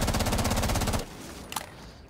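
Automatic gunfire in Rainbow Six Siege, a loud rapid burst lasting about a second, then fading to quieter game sounds with a faint click.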